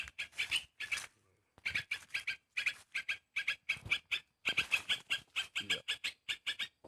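A young prinia caught on a lime stick calls in quick bursts of sharp, rhythmic chirps, loud and close, with short pauses between the runs.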